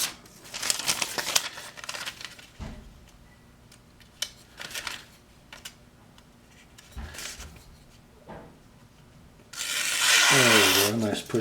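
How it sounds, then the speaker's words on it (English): A very sharp Bradford Guardian 3 knife push-cutting through paper, with several dry scraping and rustling strokes interspersed with handling noise and a louder crinkle near the end, close by, with talk around it. "Very silent going through the paper if I get my angle right"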